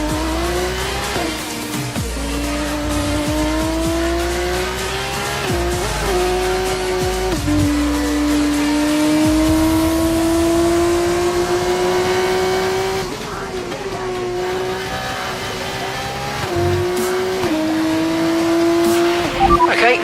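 A Formula 1 car in the F1 24 video game on Xbox One drives a lap: a loud, high engine whine climbs and drops through repeated gear shifts, with tyre squeal under it.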